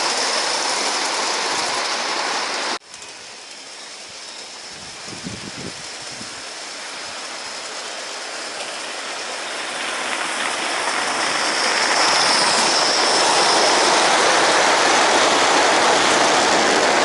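A model steam locomotive hauls five BR Mark 1 coaches along the track with a continuous hissing rumble and rail clatter that grows gradually louder, broken by one brief sharp click early on.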